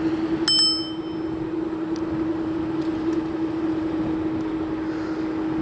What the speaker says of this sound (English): the bell just lets people know that you're coming and not to step into your way